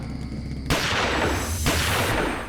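Loud, close bursts of gunfire go off in quick succession, two or three shots with a rough, lingering crack.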